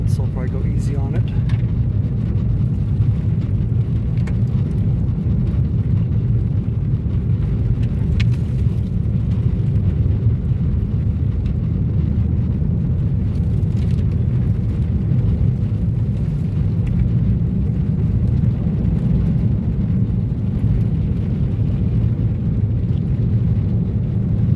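A 2013 Ford Focus engine, cold, pulling steadily as it drives and shifts up through the gears, a constant loud low drone with road rumble throughout.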